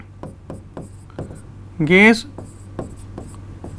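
Chalk or marker tapping and scratching on a board during a Hindi chemistry lecture on states of matter, in short regular strokes with a teacher's voice speaking briefly in the middle.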